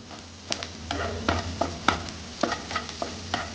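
Curry leaves sautéing in a pan while making peanut chutney: a low sizzle under repeated scraping and stirring strokes of a spoon against the pan, close and steady, with no talking.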